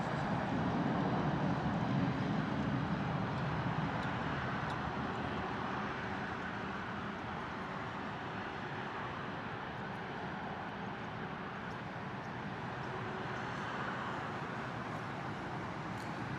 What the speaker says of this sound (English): the Finnair A350 is taxiing out towards us